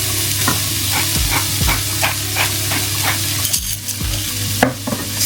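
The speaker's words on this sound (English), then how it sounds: "Make sure you give that a good stir." A vegan dish sizzling in a pan as it is stirred, a constant frying hiss broken by a rhythmic series of spatula scrapes and knocks, close and fairly loud, with no talk.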